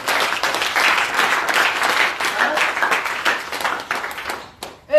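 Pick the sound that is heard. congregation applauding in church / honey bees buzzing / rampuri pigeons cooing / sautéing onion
congregation applauding in church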